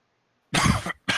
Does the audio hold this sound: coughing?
yes